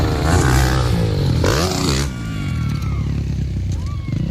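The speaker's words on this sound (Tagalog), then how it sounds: "250cc na yan mga idol ha." A 250cc motorcycle on a jump track roars loudly with a rising, revving engine note that drops as it passes, over a noisy crowd and background voices.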